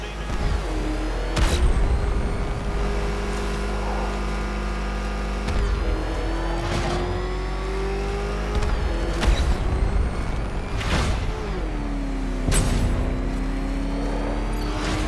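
Car engine in Batman: Arkham Knight revving steadily throughout, with gear-shift pitch changes, mechanical creaks and several sharp impact thumps over a constant low rumble.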